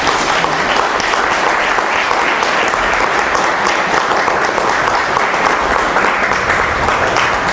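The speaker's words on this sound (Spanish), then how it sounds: "Aplausos." Listeners applaud at the close of a lecture on violence prevention, a loud, dense and even burst of clapping from a full room that carries on steadily without voices.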